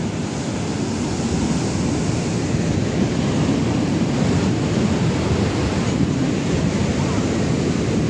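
Loud, continuous roar of sea waves breaking nearby, steady and broadband, with wind buffeting the microphone.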